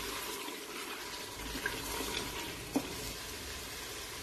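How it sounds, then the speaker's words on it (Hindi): Chicken and bottle gourd curry simmering in a pan, a steady faint sizzle with soft stirring and scraping, one brief clink near the end. "सालन को मिक्स करेंगे"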